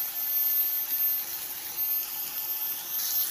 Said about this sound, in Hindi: फ्राई हो रहे हैं हमारे ये जी बैंगन की टिक्कियों की तरह फ्राई कर रहे हैं हम